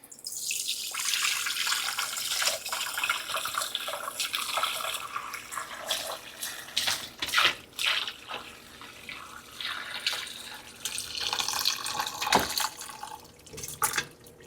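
Homemade chicken broth poured through a strainer into a teapot gives a steady close splashing trickle, swelling and easing as the stream shifts, with a few drips near the end.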